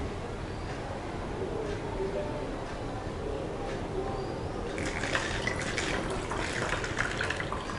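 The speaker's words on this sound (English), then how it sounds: "I'm pouring our green colored water into the bottle" Green-colored water pours through a funnel into a bottle, a steady close trickle and splash that grows brighter and fuller in the last few seconds as the bottle fills.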